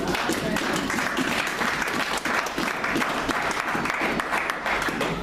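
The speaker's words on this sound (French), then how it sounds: "On acclame très fort la parole de Dieu." A church congregation at a multi-day gathering with a pastor claps loudly and steadily, dense applause filling the whole stretch without a break.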